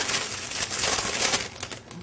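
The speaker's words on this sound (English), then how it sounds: "lift up your parchment sheet" Parchment paper sheet holding cupcake batter dry ingredients lifted and crinkled over a mixing bowl, a brief close crackling rustle with no talk.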